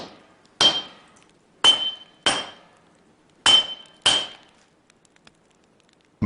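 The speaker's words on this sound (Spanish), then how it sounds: "Bajo la atenta y experta mirada de Ghassan, el calor de la fragua y el constante martilleo aplastan los fragmentos hasta convertirlos en las piezas que integrarán la nueva espada" Hammer blows on hot steel fragments at a forge during the making of a katana: five sharp, ringing metallic strikes in an uneven rhythm, close and loud, with a bright clang and short decay, then quiet.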